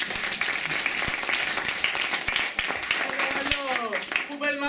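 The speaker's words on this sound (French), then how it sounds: "Un tonnerre d'applaudissements pour les Mjöldomskum" Studio audience applause on a French entertainment show, a thick burst of clapping that carries on until a voice begins speaking over its tail.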